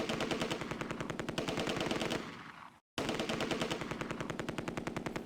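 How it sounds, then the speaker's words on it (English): An MG42 machine gun fires long, rapid bursts in the World War II strategy game Close Combat: A Bridge Too Far, with a short pause and a moment of silence before the steady rattling fire resumes. "The sound of an MG42 appears to be coming from the field of crops in the north."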